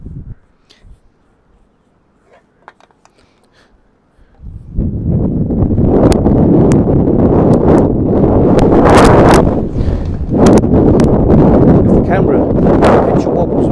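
Strong gusty wind buffets a microphone outdoors during plein air painting, a quiet start giving way to a loud, sustained roar with rumbling bursts.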